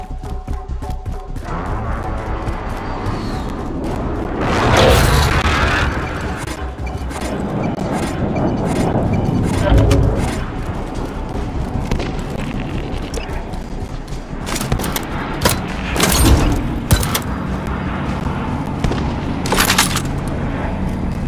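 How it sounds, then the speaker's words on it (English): Heavy explosions from a precision airstrike in the Call of Duty video game, booming in several loud bursts over steady battlefield rumble and gunfire. "Be advised, friendly precision airstrike inbound."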